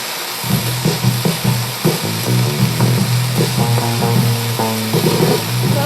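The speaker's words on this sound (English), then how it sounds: "Side 1's under label groove is played at 78 RPM, so you'll need a turntable that can play at this speed" Side 1 under-label groove of a Lazaretto LP spinning at 78 RPM on a Newmark TTX turntable: hissy, crackly playback with short bursts of pitched tones stepping through, steady and fairly loud.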